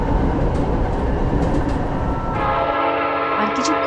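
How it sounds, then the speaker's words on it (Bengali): A passenger train pulls away and keeps running, a loud continuous rumble and clatter filling the whole stretch, with the tone shifting partway through as the run steadies and a brief high squeal near the end. "তারপর আবার ট্রেনটা ছেড়ে দিল।"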